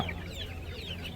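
Chicks cluck close by at an outdoor market in a busy stretch of short, overlapping calls against a noisy background.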